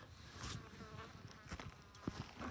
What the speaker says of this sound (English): Fly was attacking me